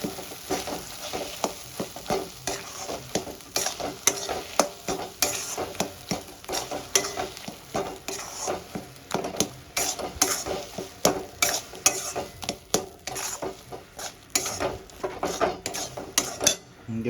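Spice paste with salt and turmeric stirred and dried out in a pan, repeated scraping and clinking of a spatula against metal in an uneven rhythm over a low sizzle, close and fairly loud.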